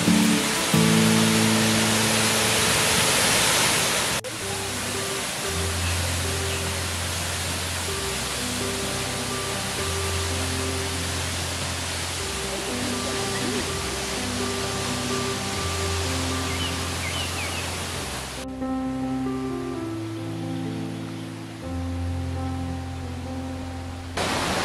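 Changey Falls in Neora Valley National Park, running with reduced flow in dry weather, gives a steady, broad rushing wash that plays continuously beneath background music.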